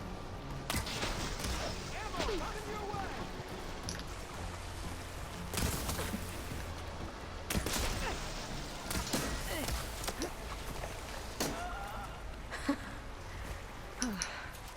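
Machine gunfire in the video game Horizon Forbidden West, a steady stream of shots and impacts running through the whole stretch over game ambience, with a few louder bursts and slams.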